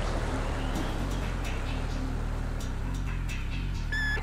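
A steady low boat engine drone in the video game Emergency 4 hums continuously at a moderate distance, like a motorboat cruising, with faint splashy noise on top.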